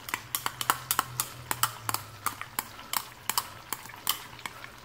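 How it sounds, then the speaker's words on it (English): Chopped garlic stirred in melted butter over medium heat, with a spoon scraping and tapping the pan in quick, irregular strokes over a faint background sizzle. "Now I'm gonna add in the garlic."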